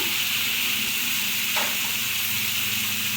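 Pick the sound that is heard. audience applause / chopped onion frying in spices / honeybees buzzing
chopped onion frying in spices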